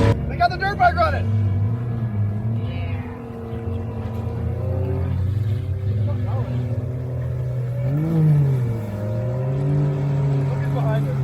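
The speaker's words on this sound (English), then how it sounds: "They got the dirt bike running." A dirt bike engine runs at a steady drone outdoors, rising briefly in a rev partway through, with people talking over it near the start.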